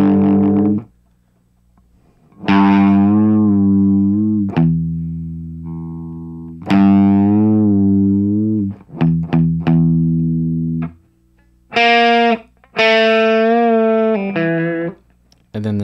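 Distorted electric guitar blues phrases, played in several separate bursts with short silent gaps, loud and close with sustained notes and bends.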